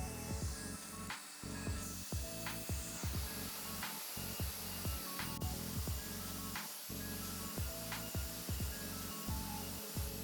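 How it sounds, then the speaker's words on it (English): A CNC router's vacuum table runs with a steady, moderately quiet whine and hum, while repeated short rubbing and scraping strokes sound over it. "You're gonna turn the vacuum on and get this thing going."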